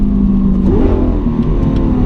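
The V12 of a Lamborghini Aventador SV revs hard up close, its loud engine note rising sharply partway through and then holding at a high, droning pitch, with no talking over it.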